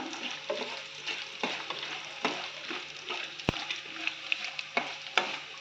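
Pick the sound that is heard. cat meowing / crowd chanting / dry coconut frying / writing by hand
dry coconut frying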